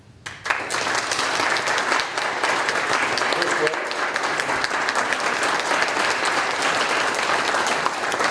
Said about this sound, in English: I will invite you to applaud for our three candidates as we welcome them up